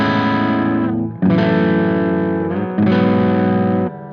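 Electric guitar driven through an EarthQuaker Plumes overdrive pedal into an Orange Micro Dark amp, three loud sustained distorted chords with brief gaps between them, no voices.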